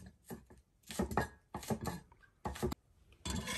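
A kitchen knife chops washed scallions and cilantro on a cutting board in a home kitchen, heard close up as several quick runs of sharp, rhythmic knocks separated by short pauses, with no talking.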